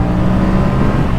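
A Honda CB650R four-cylinder motorcycle engine pulls hard in second gear, a loud, close, steady roar with a strong low rumble through the whole brief burst.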